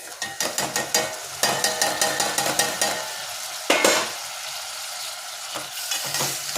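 A spoon stirs tomato pieces and turmeric into fried onions in a frying pan, making rapid, rhythmic scraping taps over a soft sizzle, with a few pauses.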